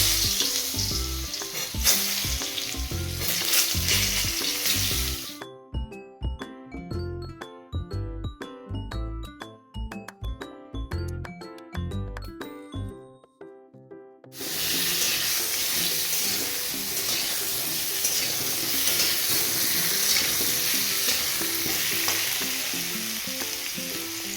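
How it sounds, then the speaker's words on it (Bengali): Potatoes dropped into hot oil with a pinch of turmeric in a kadai, giving a loud, dense sizzle that breaks off midway for several seconds of clattering, busier sound before the steady frying hiss returns. "তারপর তেলের উপর আলুগুলোকে এক এক করে ছেড়ে দিলাম।"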